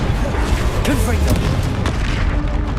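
A Confringo spell blast from Hogwarts Legacy booms out as a loud, full-bodied explosion with a rumbling low end that persists through the clip, mixed with game effects.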